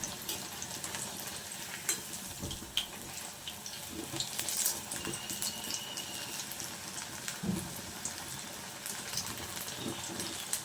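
Pointed gourd (potol) pakoras deep-frying in oil, with a low steady bubbling sizzle and occasional scrapes from a slotted spoon turning them, faint and without voices.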